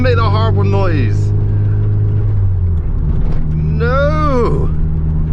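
A rough, raspy Japspeed exhaust on a Nissan Sileighty with an SR engine drones steadily throughout, with a revving rise near the start and another toward the end, loud and close.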